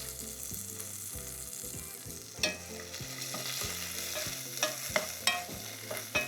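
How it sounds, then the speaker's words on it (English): Saffron rice is stirred quickly in a frying pan, with a spoon scraping and knocking against the pan in several distinct strokes over a constant sizzling fry. "Just a quick stir."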